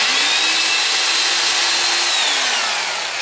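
A power drill bores the last hole in an arcade cabinet panel, a steady loud whirring grind with a high whine that holds constant and eases slightly at the end, alone without talk.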